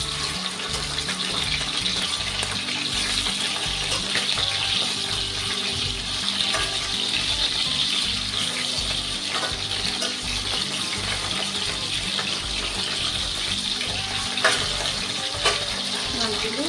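Katla fish pieces sizzle in hot oil in a pan while being fried for a Bengali-style kalia, a dense, continuous crackle with occasional scraping and clinks of a utensil, no talking.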